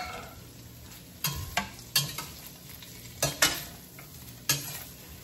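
Pork sizzling and being stirred in a frying pan while cooking pancit canton guisado, a steady sizzle under sharp scraping stirs and clanks of the utensil against the pan at irregular intervals.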